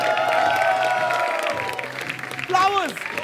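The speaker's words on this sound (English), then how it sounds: "Keep the applause going." Studio audience applause at the start of a comedy show, a steady clatter of clapping mixed with excited whoops and shouting voices that rise again near the end.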